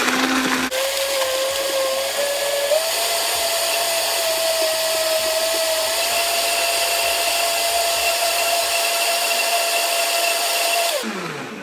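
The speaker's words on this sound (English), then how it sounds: "Find my mixer." An electric mixer whirs steadily while blending a Snickers shake, its motor whine rising a step in pitch early on. It runs continuously for about ten seconds and then stops abruptly. No one speaks.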